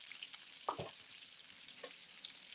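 Short ribs sear in a hot pan with a steady, faint crackling sizzle, broken by a couple of brief clunks and scrapes of the meat or utensil.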